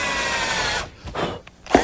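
A power drill bores pilot holes and drives screws into wood while a grill cart is assembled in a woodworking shop. A short, close whirring burst rises and then cuts off.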